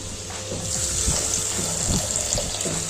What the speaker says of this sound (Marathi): पाणी टाकून घेऊया ते